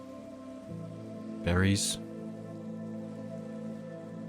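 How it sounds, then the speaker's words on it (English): Rain falls in the video game Minecraft as a steady, soft hiss running throughout, briefly overlaid by a single spoken word from a nearby voice. "Now I've got some rain."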